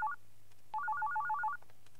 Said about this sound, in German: Dein Telefon klingelt